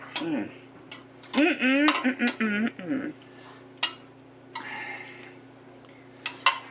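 Stromboli sausages are flipped in a pan, giving a few clattering scrapes and taps of a utensil against cookware, with a voice speaking through the busier first half and sparse clicks after.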